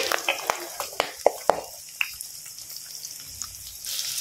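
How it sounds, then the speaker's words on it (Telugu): Mustard seeds, cumin, curry leaves and onion hit hot oil in a home kitchen pan, giving a few sharp crackles and pops early on that settle into a faint, steady sizzle. "కొన్ని ఆవాలండి, జీలకర్ర, కరివేపాకు, ఉల్లిగడ్డ వేసేస్తున్నానండి"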